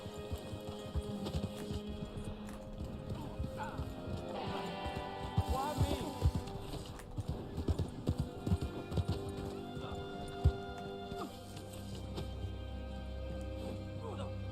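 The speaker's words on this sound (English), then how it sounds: "The Black Arabian horse." Hooves of a Black Arabian horse clip-clopping in the Red Dead Online game, a brisk irregular stream of sharp hoof strikes over ambient game sound, moderately close, with people talking over it.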